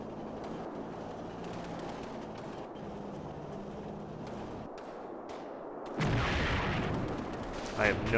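Bazooka firing in the Blitzkrieg video game, a loud heavy blast with a rumbling roar after a stretch of quieter battle ambience, with a voice heard faintly.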